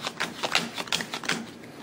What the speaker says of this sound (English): You'll take your initial set of cards, you'll shuffle them up, you'll draw 5.